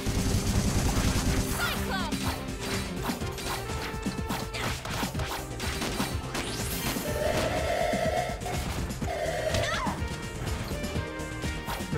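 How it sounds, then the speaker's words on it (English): Loud, dense bursts of crashing explosions and impacts fill a boss fight in the platform game Freedom Planet 2, rapid and continuous over busy game music, with a brief tonal sweep partway through. "Very realistic explosion noises."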